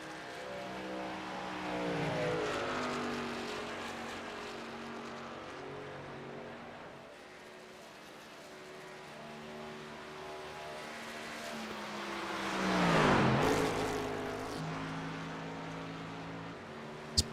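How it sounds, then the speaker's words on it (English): A race truck at Pocono drones along, its engine pitch rising and dropping as it downshifts into corners, then swelling into a louder close pass with a falling sweep before fading, with no talk. "You hear him downshifting, entering the corners."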